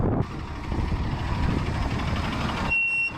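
A heavy vehicle rumbles close by on a remote icy road as it slows to a stop, its engine noise steady before cutting down near the end.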